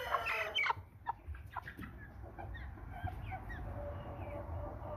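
Nine-week-old American Bresse chickens cluck and chirp close by, brief scattered calls over a low background murmur of a pen during sorting.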